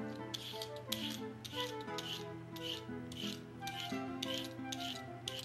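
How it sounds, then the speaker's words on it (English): Carrots being peeled and sliced by hand for lentil spinach soup, a steady run of soft scraping rubs and cutting strokes repeating about every half second, close and moderately quiet over a low steady hum. "I'll peel the carrots and I'll slice them to about 1/2 inch thickness"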